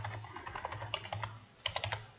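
Computer keyboard keys clack rapidly while code is typed, a quick run of close, light taps followed by a brief pause and then a second burst, with no talking.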